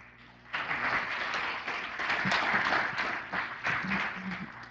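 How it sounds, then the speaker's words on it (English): An audience at a council presentation ceremony bursts into applause, many hands clapping at once in a sustained, fairly close ovation that swells and then holds, with faint voices mixed in underneath. "you've been applauding, so I thank you so much"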